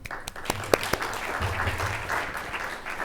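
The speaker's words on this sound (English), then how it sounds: "So if you want to give them a round of applause just to welcome them." Audience applause at an investment panel event welcomes the moderator, a fairly quiet, steady patter of clapping with a few sharper individual claps early on.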